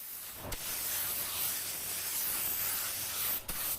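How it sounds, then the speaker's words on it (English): A spray gun lays a light drop coat of metallic base coat onto car doors and a fender, giving a steady soft hiss with brief sharp bursts at the start and end of the pass. "Now I'm just doing a little drop coat on these doors and this fender."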